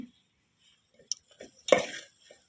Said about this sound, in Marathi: चांगला हलवून मसाला जरा तेल सुटेपर्यंत परतू द्यायचा